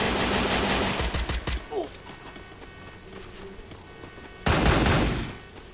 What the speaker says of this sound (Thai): เขายิงกันดูเดือดนะครับ